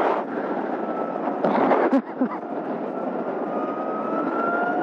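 A Zero SR/S electric motorcycle accelerating hard at speed on a demo ride, with a thin rising electric motor whine buried under steady loud wind roar.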